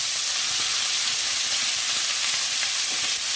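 Beef steak sizzles loudly in a hot pan, a dense steady hiss with occasional crackling spatters from the meat's moisture throughout.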